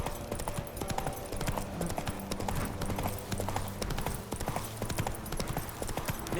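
Roach the horse's hooves clip-clop in steady rhythm in The Witcher 3: Wild Hunt, a continuous trotting patter over ambient game sound.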